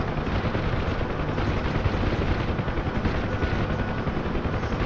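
Door gunner's machine gun firing from a Huey helicopter in a video game, a dense, continuous roar of rapid shots blending with rotor noise, loud and steady throughout with no talk.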